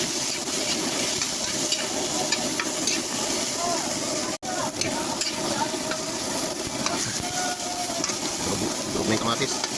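Chicken pieces sizzle and fry in a little oil with tomato while being stirred in a pan, a continuous loud hiss with scraping, and a voice talks over it.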